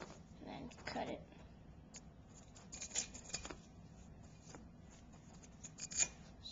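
Knife slicing a strip of tank tape, heard as soft, brief scraping cuts near the mic against a quiet background, with light handling noises around them.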